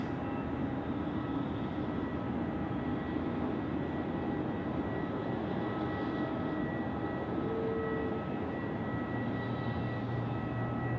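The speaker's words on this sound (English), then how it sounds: "the Qatari is now lined up and rolling. Runway 34 left." A Qatar Airways jet rolls for takeoff on runway 34 left at Sydney Airport at night, a steady broad engine roar heard from a distance without any talk.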